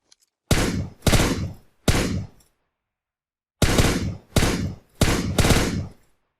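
Gunfire in PUBG Mobile on the Sanhok map comes as loud, close single shots in two groups, three shots then four, each a sharp crack with a short echoing decay, separated by a quiet pause.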